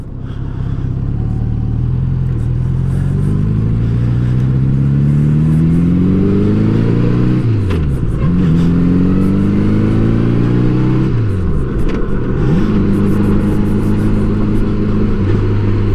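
A 1984 Honda Gold Wing Aspencade motorcycle rides past up close, its engine droning steadily loud, rising in pitch through the gears and dipping sharply at each of two shifts, the cycle repeating.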